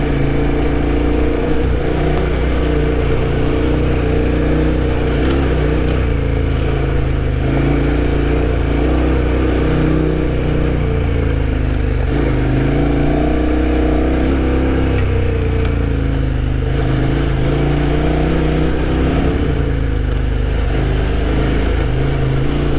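A motorcycle engine, ridden on a backcountry trail, drones loud and steady for a long stretch, with wind noise and small shifts in pitch as it revs.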